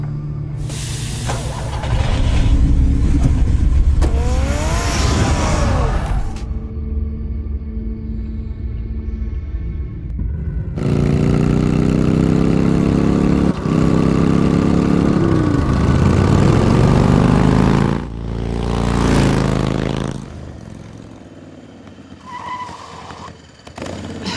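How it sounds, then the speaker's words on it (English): A car engine revs in the Batman: The Telltale Series video game, loud and close, in several rising and falling bursts with short quiet gaps between them. "Get the car ready"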